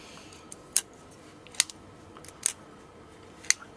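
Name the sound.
screwing in the pocket knife body screws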